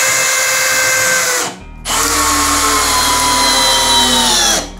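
A Bosch GSB 185-LI cordless drill driver spins a 5x16 hex screw in with a loud, steady close-up whir, cutting out briefly once before running on and stopping.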